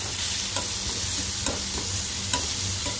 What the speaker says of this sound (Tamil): வெங்காயமும் பூண்டும் பேஸ்ட்டை போட்டுக்கலாம் போகிற வரைக்கும் நல்லா வதக்கிக்கணும்